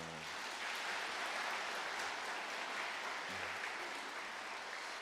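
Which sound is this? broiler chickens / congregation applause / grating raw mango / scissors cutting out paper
congregation applause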